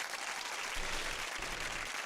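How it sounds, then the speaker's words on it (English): A canned applause effect played by a talk-show host, a short burst of crowd clapping lasting about two seconds with no voices over it. "I don't know why I did the clap."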